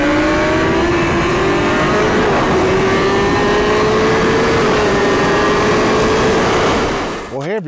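A 2026 BMW M 1000 RR sport bike engine revs hard and loud throughout, a steady high whine climbing in pitch as it accelerates, fading slightly near the end with a brief tonal sweep.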